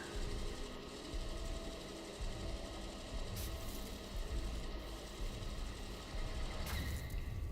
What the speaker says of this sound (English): Grinding and filtering sample